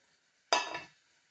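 Red amaranth greens stirred in a cooking pan, a single short scrape of a utensil against the pan with a faint sizzle, heard close and alone.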